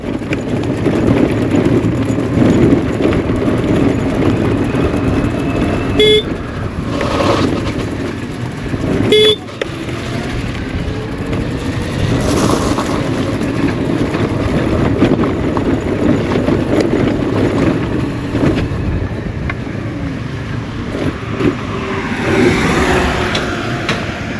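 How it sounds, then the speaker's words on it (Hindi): A BGauss RUV 350 electric scooter riding along, with steady road and suspension rumble and a charger rattling loose in the boot, broadband and continuous with occasional knocks and passing traffic. "आप सस्पेंशन आवाज़ सुनिए, थोड़ा सा जो बूट से आवाज़ आ रहा होगा ना, इसकी जो आवाज़ है वो चार्जर जो रखा हुआ है"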